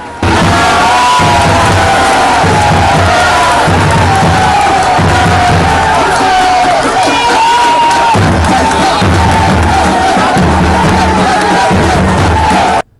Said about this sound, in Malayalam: കയ്യടിയും മുദ്രാവാക്യം വിളിയും ക്യാമറ ഫ്ലാഷുകൾ മിന്നിമറയലും